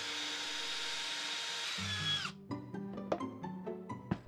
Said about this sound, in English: I went back with the sanding drum and widened it just a hair more.